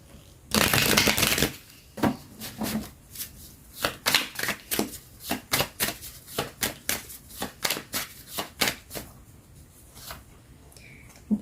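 Oracle Chakra Wisdom cards are shuffled by hand: a burst of riffling, then a steady series of crisp, close slaps and flicks repeating about twice a second for several seconds.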